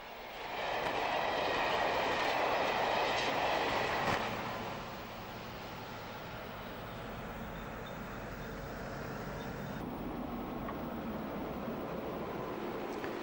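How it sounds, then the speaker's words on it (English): An Irish 201-class General Motors diesel express rumbles past with a clattering roar that swells early, then eases into a quieter, steady rolling sound of a milled-peat train from a distance. "A Dublin-bound express hauled by one of the latest General Motors 201-class diesels speeds on its way"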